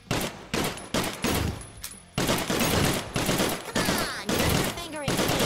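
Automatic weapon fire in the zombie video game Drunk or Dead 2, with loud, dense bursts of rapid shots cut by brief pauses and sparse speech beneath.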